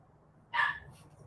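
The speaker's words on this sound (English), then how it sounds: "That dog's barking with you and looking at you." At Yosemite, a single short bark from a dog, fairly close and sharp, rising out of quiet low background noise and fading quickly.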